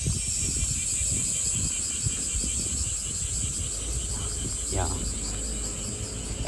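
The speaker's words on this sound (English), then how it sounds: "this is the noise of the semi." Cicadas buzz in a dense, continuous shrill chorus in summer in Japan, with faint low rustling underneath and a brief bird chirp partway through.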